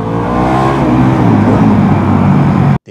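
A Harley-Davidson Pan America motorcycle engine revs loudly up close, a deep throbbing roar that climbs and holds for nearly three seconds before cutting off abruptly.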